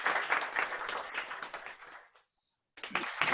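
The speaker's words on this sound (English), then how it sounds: "Have an applause for the last bit of the evening." An audience gives hearty applause at a live evening show. The dense clapping fills the room, breaks off into a brief near-silence, then surges back just as loud.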